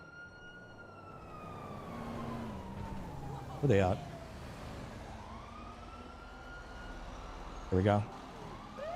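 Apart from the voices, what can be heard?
emergency vehicle sirens in video game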